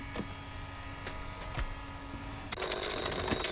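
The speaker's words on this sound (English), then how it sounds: "And phone rings, so answer that." A phone rings in the Police Chief Simulator video game, repeated electronic trill bursts over a low background hum, fairly faint, with a denser tone near the end.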